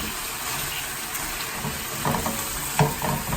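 Cola chicken drumsticks frying and caramelizing in a pan over a strong flame, a dense, close sizzle with a few louder pops and spits toward the end.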